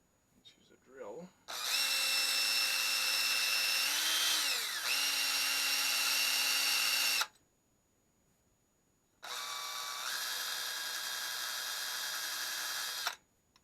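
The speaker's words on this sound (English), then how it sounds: "use a drill." A power drill cleaning the threads on a vintage spokeshave being restored runs loud and close in two long bursts, its whine shifting pitch mid-run, with a short pause between and a brief handling noise at the start.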